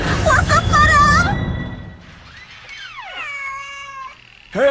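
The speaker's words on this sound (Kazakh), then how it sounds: "Мысықтар. Олар солай мияулайды ғой." Cartoon cats let out several drawn-out meows that rise and fall in pitch, loud and close at first, then softer and wavering, ending with a sudden sharper cry.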